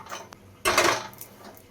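A steel wok, or kadai, is handled in a home kitchen, giving a single bright metallic clatter after a couple of soft taps, close and clear with no talking.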